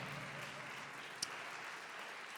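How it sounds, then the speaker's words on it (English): Gala audience at a housing charity event applauding, a soft, distant, even patter of clapping that holds steady throughout, with one brief sharper click partway through. "Big round of applause"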